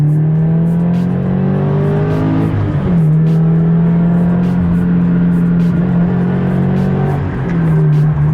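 Subaru BRZ fitted with an Invidia N1 exhaust accelerating hard, a loud, steady engine drone rising in pitch with a brief dip mid-run as it shifts, then climbing again, close and alone with no talk.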